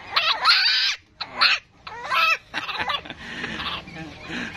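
Angry brooding bantam hen clucking and squawking in loud, harsh bursts with short gaps between, close by.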